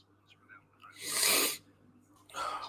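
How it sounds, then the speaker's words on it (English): A person blows their nose once in a strong, breathy burst lasting about half a second, with a shorter sniff or blow following, heard close and alone during a live football watchalong stream. "Sorry, I have to blow my nose on camera."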